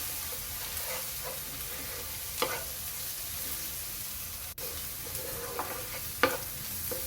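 Onion stirred in a pan with turmeric, cumin and coriander powder while cooking a taki fish dish. A steady soft frying hiss runs throughout, broken by a few scraping strokes of the spoon.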